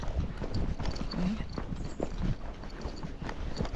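Hooves of a Tennessee Walking Horse mare clip-clop on a trail in a steady walking rhythm, close and fairly loud, with a brief spoken word and a short vocal sound partway through.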